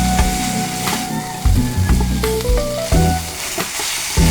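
Onions and garlic sauté in a little oil for chicken pastil, a loud, close sizzle pulsing with repeated stirring strokes, heard alone without speech.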